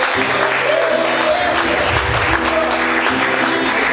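Loud, sustained applause fills a church service, with a voice faintly speaking and tonal music underneath.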